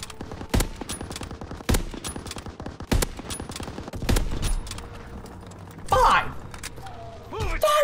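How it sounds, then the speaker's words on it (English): Sniper rifle shots in a World War II video game, several sharp separate cracks spaced a few seconds apart, with game sounds and a voice talking in between. "Five shots to kill someone with the sniper"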